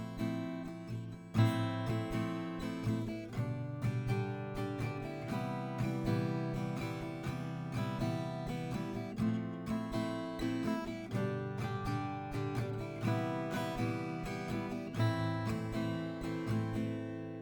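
Acoustic guitar strums a chord progression in a steady rhythmic pattern, moderately quiet and close, with no voices.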